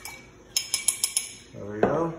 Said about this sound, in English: So you gotta just stir it.